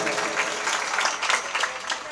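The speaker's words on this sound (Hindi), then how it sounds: "हम उनका तालियों से स्वागत करें।" A village crowd at a Bhagavat Katha religious gathering claps in welcome, a steady, fairly loud patter of many hands with small swells throughout and no talking.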